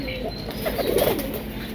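Pigeons in a village coop give soft, low cooing with a brief flutter of wings, close by over steady outdoor background noise.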